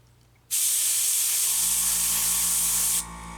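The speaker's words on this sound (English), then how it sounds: "I'm not even spraying them full strength black, so they're coming out as kind of gray boxes" An airbrush sprays thinned black paint onto a model ship, giving one steady, close hiss about two and a half seconds long with a faint compressor hum underneath, then stopping abruptly.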